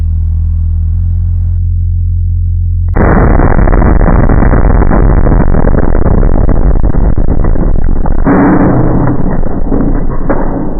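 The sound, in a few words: simulated lightning surge test on electrical consumer unit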